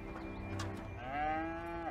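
A cow moos once in a video game, a long drawn-out low call rising then falling, heard near and clear over quiet game ambience.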